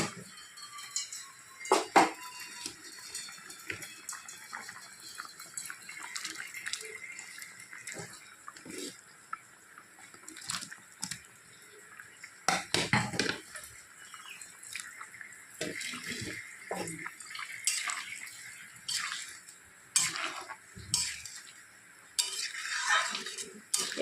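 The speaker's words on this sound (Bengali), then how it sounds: "ঝোলটা উতলে গেছে এখন আমি এর মধ্যে পনিরগুলো দিয়ে দেবো" Pieces of paneer go into a pot of boiling vegetarian gravy, with watery splashes, stirring and metallic clinks of utensils against the pot. The sound comes in irregular bursts and stays close, with no talking.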